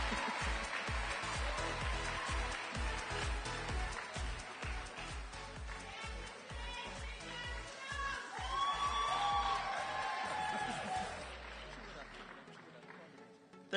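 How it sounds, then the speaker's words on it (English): Audience at a Bahamas primary school awards ceremony applauding and cheering as a scholarship recipient walks up, steady crowd clapping with whoops and rhythmic thumps, fairly distant, fading out near the end. "Let's clap her on."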